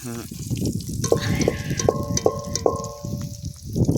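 KFC-style chicken frying in hot oil, a busy crackling sizzle running under a voice, with a few clear metallic ringing taps from utensils on the pan midway, close and loud.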